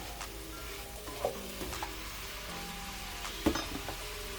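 Lo mein noodles frying dry in a hot pan on high heat, a steady soft sizzle with a few sharp stirring scrapes and clicks, close and fairly quiet.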